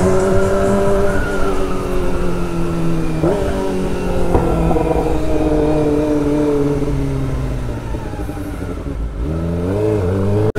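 Motorcycle engine revving while riding on an Indonesian street, a loud, steady close engine drone whose pitch climbs and drops several times as the throttle opens and eases off.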